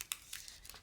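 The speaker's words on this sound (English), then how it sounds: "Peel that off." Backing peeled off a retro Christmas ornament, a brief, faint crinkling and tearing of thin plastic or paper up close, with a few soft bursts in under a second.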